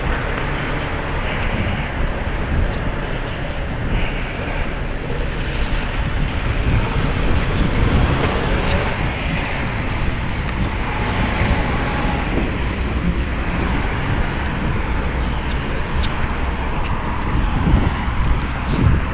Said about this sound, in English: big truck waiting here to bombard me with the noise